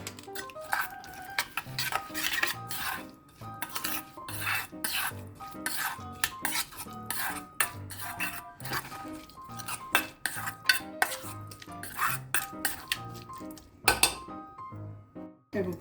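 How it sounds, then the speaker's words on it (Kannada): Boiled Maggi noodles with a full packet of masala are stirred in a pan, a spoon scraping and clinking against the metal in a steady, busy rhythm, close and continuous with no voices. "ಮ್ಯಾಗಿದು ಹಾಕಿದ್ದನ್ನೆಲ್ಲ ಚೆನ್ನಾಗಿ ಮಿಕ್ಸ್ ಮಾಡಬೇಕು"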